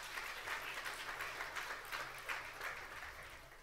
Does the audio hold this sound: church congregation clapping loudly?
yes